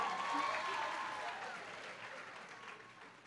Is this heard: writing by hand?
no